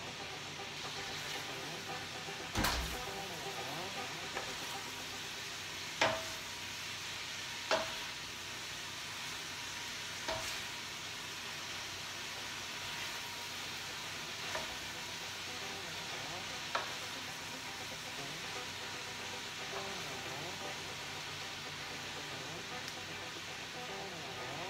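Butter melts over hot Italian sausage and red cabbage in a pan, giving a quiet steady sizzle with a few sharp spoon clanks and scraping stirs scattered through.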